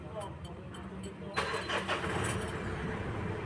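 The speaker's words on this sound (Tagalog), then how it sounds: "So dinig naman natin na madali lang naman siyang paandarin." A Mitsubishi Strada pickup's 4D56 diesel engine cranks briefly and catches about midway, settling into a low, rattly idle at close range, with a quiet voice behind it beforehand.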